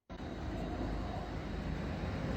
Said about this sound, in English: Plane's on fire.